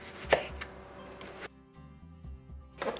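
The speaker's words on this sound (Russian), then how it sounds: "Сюда же к чесноку я беру луковицу, разрезаю ее на 4 части и очень тонко вот так вот нарезаю." A knife thinly slicing an onion that has been quartered, rapid crisp chops on a board at close range, pausing briefly midway before resuming.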